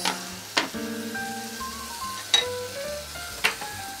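Meat frying in a pan during a morning kitchen routine, with a low sizzle and several sharp clinks of utensils against the pan amid background music.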